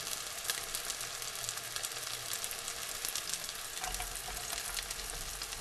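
Slider patties fry in a pan on an electric stove, producing a close, continuous crackling sizzle with scattered pops and no speech.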